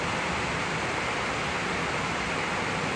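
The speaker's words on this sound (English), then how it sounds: "Man, it's pouring rain out there" Heavy rain pours steadily outdoors at a hot rod event, a dense unbroken hiss that stays loud and even throughout with no voices.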